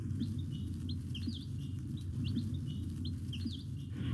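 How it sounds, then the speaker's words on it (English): Newly arrived chicks in a pen nearby give soft, scattered high peeps and cheeps over a steady low rumble of background noise. "I've got a couple of batches of chicks that have already arrived"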